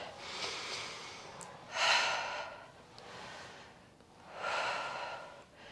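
Forceful exhales through the nose during a Pilates reformer leg press, three breathy rushes spaced a few seconds apart, close and fairly soft over a quiet room.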